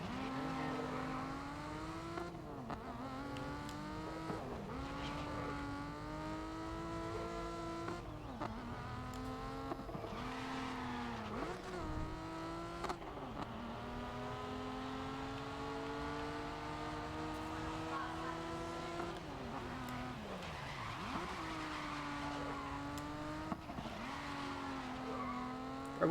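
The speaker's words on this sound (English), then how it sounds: "I'm gonna pass him up. I gotta ram his car." Game race cars racing and ramming each other, engines rising and falling through repeated gear shifts with occasional tyre squeal, a continuous close drone throughout.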